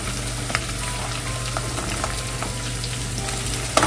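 Diced mango hits a hot pan with onion and sizzles, making a steady, close frying crackle with light stirring scrapes throughout and no voices.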